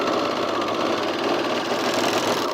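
Home sewing machine stitching a men's raglan shirt seam with navy blue thread, a fast, even mechanical whir and chatter running loud and close without a break.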